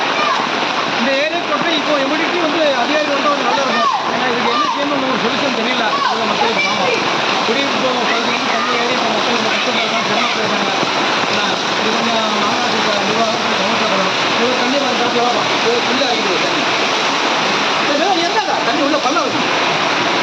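Floodwater rushes in a loud, continuous torrent into a house compound during a December flood in Melapalayam, with someone talking over the steady roar throughout.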